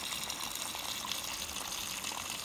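Cracked corn being rinsed in water for old-style toasted cornmeal flour, a steady rushing, sloshing wash of water running over the grains without pause.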